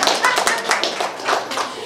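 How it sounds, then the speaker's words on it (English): Audience clapping at an opera-related evening event, a steady patter of hands from a fairly close crowd, loud and continuous for a couple of seconds without anyone speaking. "We can clap for that"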